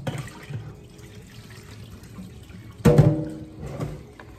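Kitchen tap running into a sink while fish is rinsed, a steady low wash of water that swells into a louder splashing gush near the end, close by and with no voices.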